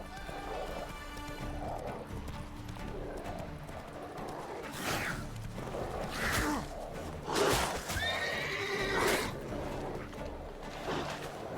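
Geralt's horse Roach whinnies several times in The Witcher game, loud neighs over hoof clip-clop and background game ambience, with faint speech around them.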